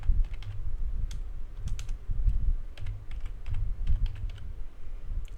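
Someone types steadily on a computer keyboard while writing a VBA macro, with close, irregular runs of key clicks and thumps repeating throughout and no one talking.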